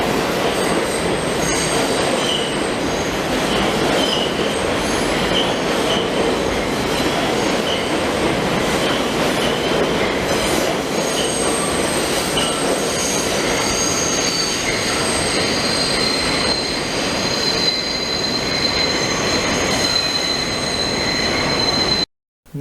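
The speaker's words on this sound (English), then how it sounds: "Here's a shot of a northbound express train rounding the curve where the center track used to merge." A northbound express subway train rounds a curve on a former center-track merge at Nevins St lower level, its wheels squealing loudly and continuously over steady rumbling and clatter, close and sustained throughout.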